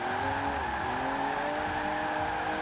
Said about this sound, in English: It just doesn't want to stop spinning those rear wheels.